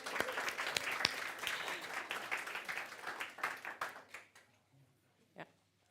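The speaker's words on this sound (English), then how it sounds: "I think we should give her a clap" An audience at a side event on sustainable ocean management applauds together, a few louder claps up front, the sound thinning and fading to isolated claps before a brief final one.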